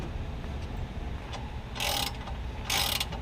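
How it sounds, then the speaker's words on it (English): A ratchet tightens a tow hook bolt on a Ram 1500 pickup in two short bursts of rapid clicking, close and crisp over faint background noise. "We're tightening up the tow hook bolt"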